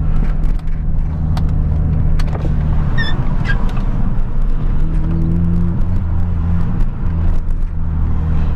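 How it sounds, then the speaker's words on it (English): A Mini car engine drones steadily from inside the cabin while driving, with a low hum, a gear change midway and small rattles and clicks. "it changes gear smoothly now"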